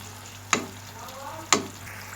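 A spoon mashing softened tomatoes in a pan over low sizzling, with two sharp scraping knocks spaced about a second apart.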